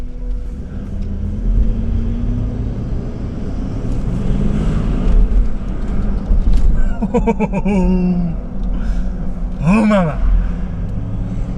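Toyota Land Cruiser 200 series fitted with a Safari Armax ECU and snorkel, engine droning steadily under road and wind noise inside the cabin while a man exclaims loudly partway through.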